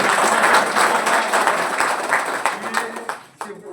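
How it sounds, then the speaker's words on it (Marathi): Applause from a village crowd greeting a new garbage truck worth 3.5 lakh rupees, a dense, steady patter of many hands clapping together and tapering near the end. "त्यामुळे आणखी एकदा टाळ्या"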